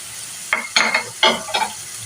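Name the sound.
tomatoes frying in a pan for mixed dal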